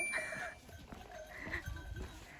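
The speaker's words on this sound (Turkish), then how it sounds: "Şanslı keçilere." Goats at the ancient city of Anamurium near Cape Anamur, Turkey: a few faint, distant bleats over quiet outdoor background.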